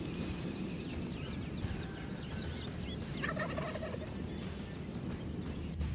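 Several wild turkeys gobble in repeated bursts near a pond during an April hunt, the calls moderately distant over steady low outdoor background noise, with one louder gobble cluster around the middle.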